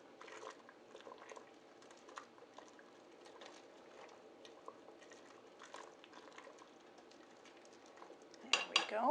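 Macaroni gets stirred in a cooking pot, soft scraping and clinking of a utensil against the metal in a quiet kitchen, with a louder clatter at the end.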